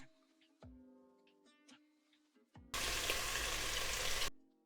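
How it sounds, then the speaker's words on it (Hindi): Garlic and ginger paste with garam masala hits hot oil. Quiet kitchen clatter gives way to a sudden loud sizzle that roars steadily for about a second and a half, then dies away. "मैंने 2 चम्मच लहसुन और अदरक का पेस्ट लिया है। अब मैं इसको गरम मसाले में डाल के 1 मिनट के लिए फ्राई करूँगा।"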